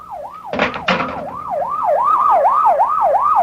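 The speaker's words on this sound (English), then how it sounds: "better get that ambulance out here fast" An ambulance siren wails in a rapid rising and falling pattern as it approaches in a radio drama scene, preceded by a couple of brief noisy bursts, then growing steadily louder.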